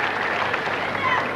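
Big crowd at a 1997 Australian exhibition tennis match applauding Steffi Graf, a sustained wash of clapping and cheering with commentary talk running over it.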